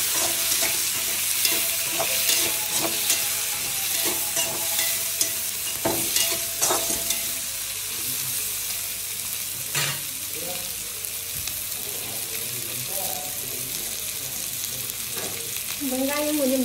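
Sliced onions and green chillies frying in oil in a pan, a steady close sizzle with scattered scraping stir strokes and spatula clinks running throughout, no talking.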